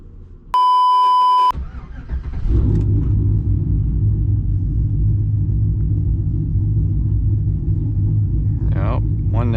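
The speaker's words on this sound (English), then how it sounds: "So yeah, starting off here, pump some fuel, hit the road." A steady electronic beep tone plays first. Then a truck with a cammed 5.3 V8 on 35-inch tires pulls onto the road, and its deep, loud, throbbing engine rumble holds constant for several seconds, with faint chirping near the end.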